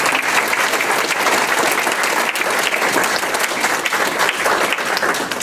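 A room full of people applauds students at a school board of education meeting, with vigorous, continuous clapping that stays loud and busy from start to finish.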